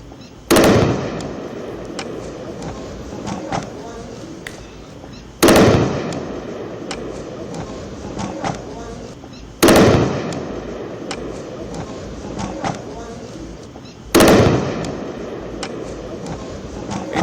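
Explosions from Indian air defence systems intercepting Pakistani attacks over Jammu: four heavy booms roughly every four to five seconds, each a sharp blast followed by a long rumbling decay, with no talk.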